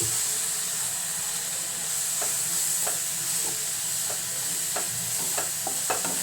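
Turmeric, pepper, fennel, cumin and chili powder sauté in a pan with a constant close sizzle, broken by light intermittent scrapes and taps of stirring.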